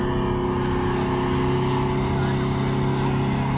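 A boat engine drones loudly and steadily nearby, a constant low mechanical roar with no pauses.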